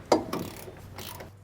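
A wrench ratchets as bolts on Air Lift LoadLifter 5000 Ultimate helper springs are torqued on a 2020 Chevrolet, giving a few short metallic clicks and bursts close by with quiet gaps between.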